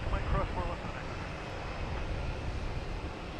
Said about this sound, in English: We got Spirit taking off on runway 9.